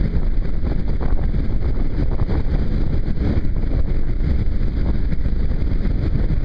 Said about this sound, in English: Still gusty winds.